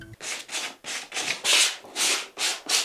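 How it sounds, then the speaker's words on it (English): Melamine-coated IKEA furniture being sanded by hand to rough up the surface, a steady run of rhythmic back-and-forth scrubbing strokes, close and fairly loud, with no voices. "you need to sand it to rough it up to make primer and other things that stick"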